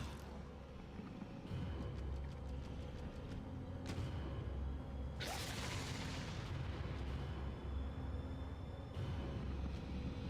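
Gunfire in Resident Evil 4 Wii Edition: a few sharp, isolated shots over a low, steady game rumble, the loudest a bright crack near the middle followed by a noisy burst, with no talk.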